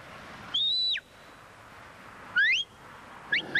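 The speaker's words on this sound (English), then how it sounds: "this whistling with this piece of tin with a hole in" Three shrill whistle notes from a Northumberland hill shepherd's tin whistle, each rising or bending in pitch, separated by pauses over quiet background.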